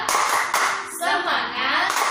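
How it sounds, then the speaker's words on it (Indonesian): Children in a kindergarten class doing the tepuk semangat clapping chant, brief bursts of rhythmic hand claps mixed with chanting voices over about two seconds. "Kita ulang sekali lagi tepuk semangatnya ya, Bos."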